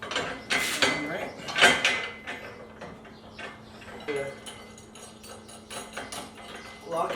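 A small wrench tightens a locking nut on a Mockins 2-in-1 truck bed extender mounted at the hitch. Metallic clicks and clanks come in uneven bursts, with occasional speech mixed in.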